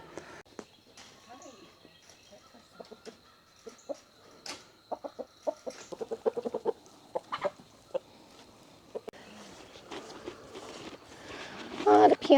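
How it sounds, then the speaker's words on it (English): Several broody hens cluck in short, scattered bursts on a homestead, with some clucks near and louder, footsteps and faint voices around them. "we got like 6 or 7 broody hens right now"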